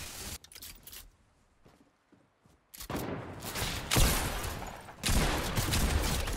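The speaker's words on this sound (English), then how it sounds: "This bug is annoying. Constant dynamite sound in my ear." Rapid game explosions from a glitch in an arena shooter, a dense crackling barrage that drops out briefly near the start, then returns loud and continuous, repeating in sustained bursts close up.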